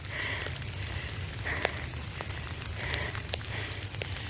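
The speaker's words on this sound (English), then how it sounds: "We got caught in a rainstorm." Rain falls steadily on surfaces during a rainstorm, a soft constant patter with scattered sharper drops, fairly faint and with no talking.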